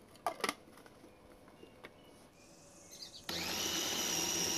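A food processor grinding beef and chicken meat for bakso starts up after a few faint clicks and knocks, then runs as a loud, steady motor whine close by.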